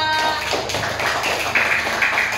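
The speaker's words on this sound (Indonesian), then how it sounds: "Beri tepuk tangan kelompoknya siapa?" Students in a classroom clap for a group of classmates, a moderate patter of hand claps with scattered louder taps, no talking over it.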